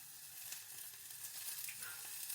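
Eggs cracked into boiled water sizzle with a bright, steady crackling hiss, faint but continuous throughout with no talk.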